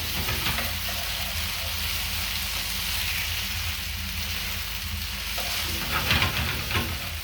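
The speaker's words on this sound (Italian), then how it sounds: "Diamo una bella mescolata." Barley sizzles steadily in a hot pan while a utensil stirs and scrapes through it, a constant crackling hiss up close.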